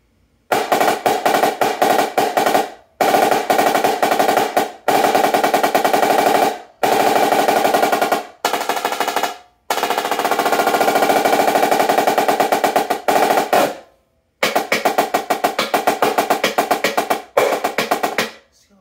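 Marching snare drum tuned high and tight, played in long rapid rolls and bursts separated by short gaps, loud and close, some rim shots missed.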